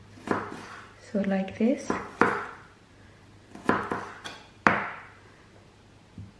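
A knife slices an ingredient into thin pieces for a Chinese egg salad, giving a few sharp, separate cuts against a board at an uneven pace, with a short bit of talking partway through.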